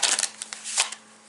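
Tarot cards shuffled on a table, a quick flurry of soft riffling snaps and slides in a few short bursts, close and fairly quiet.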